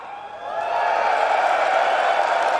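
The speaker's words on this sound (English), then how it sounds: "can I hear a cheer from the left side?" A live esports crowd on the left side of the arena at the FACEIT Major in London 2018 cheers, a broad roar swelling up after half a second and holding steady and loud.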